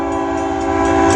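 A BNSF freight train led by two locomotives in Santa Fe paint sounds a loud, sustained horn nearby that swells slightly toward the end.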